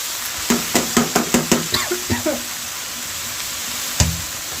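Garlic, chili and cabbage going into a hot wok to stir-fry, with a quick run of about eight sharp knocks and clatters of a utensil against the pan over a steady sizzle, then a final knock.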